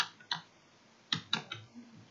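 Computer keyboard typing into a PowerPoint text placeholder: a few sparse, soft key clicks in two short bursts, fairly faint and close, with no talking.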